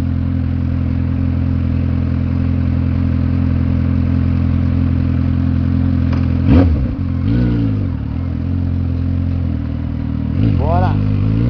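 A Kawasaki Z750 motorcycle idles steadily and close while being ridden through city streets, with a few short rev swells rising and falling over a constant low engine drone.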